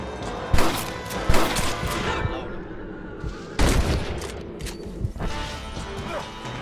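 Several sharp gunshots from a western Red Dead Redemption shootout, loud and close, fired in irregular bursts with a crash and lighter thuds between them and a steady ambient game bed underneath.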